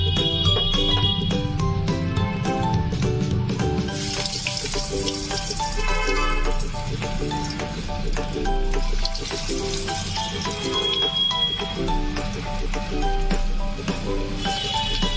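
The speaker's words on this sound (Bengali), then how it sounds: "এই দেখুন তেল গরম হয়ে গেছে, তো এখন আমি দিয়ে দিচ্ছি একটা একটা করে চপগুলো" Vegetable chops deep-frying in hot white oil make a loud, continuous bubbling sizzle that holds steady throughout, with music playing underneath.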